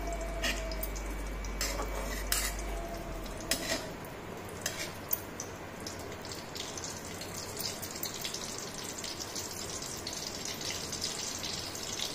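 Water is poured into a cooking pot to heat while ghee warms on a lit gas stove for rajgira halwa: a soft, steady rush of water with a few light metallic clinks of utensils, all fairly quiet.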